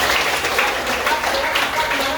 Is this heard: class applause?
yes